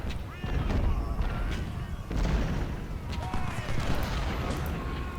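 Civil War field artillery, including 10-pounder guns in Ultimate General: Civil War, fires in repeated booms and thuds across a noisy battlefield, with someone talking over the guns.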